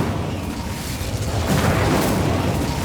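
A fire spell bursts out in the Hogwarts Legacy video game, a sustained roaring, boom-like blast that swells halfway through and holds loud to the end, with no voices over it.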